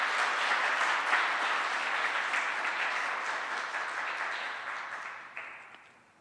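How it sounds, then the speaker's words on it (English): Audience at a design school talk breaks into dense, steady applause that holds strong for several seconds, then thins and fades out toward the end. "Please give a round of applause."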